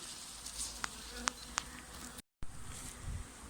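A honeybee swarm hangs on shrub branches during a swarm collection, humming in a faint steady drone with a few sharp clicks and a brief dropout, no voices.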